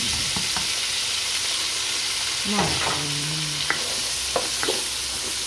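Mushrooms fry in a pan with a continuous, close sizzle while a utensil stirs and scrapes them, giving occasional knocks and clatters.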